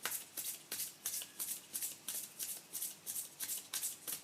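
Tarot and oracle cards shuffled by hand in a quick regular rhythm, about a dozen crisp riffling bursts close up, with no speech.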